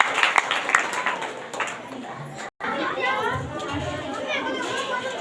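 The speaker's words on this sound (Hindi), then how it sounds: "इसलिए बहन परमेश्वर को जोरदार तालियों के साथ धन्यवाद देते हैं।" Clapping and applause at a church gathering, crowd clapping mixed with chatter and voices, moderately loud and continuing throughout with a brief cut partway through.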